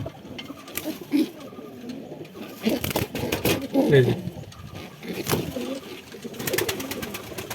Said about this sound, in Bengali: ওরা কিন্তু একদম অ্যাকিউরেট বুনো কবুতার ওদের কোনো ভেজাল নেই